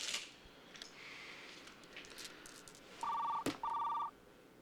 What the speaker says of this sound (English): When did my phone start ringing?